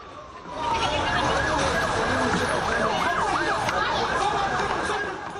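Ambulance and police sirens wail together at the scene of an incident near a historic mosque, a loud wavering two-tone warble rising over steady street traffic noise for several seconds.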